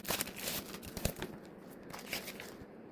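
Packaging for a Samsung Galaxy A14 5G back case cover is opened up close, giving a continuous crinkling and crackling of plastic and paper with several sharper tearing snaps.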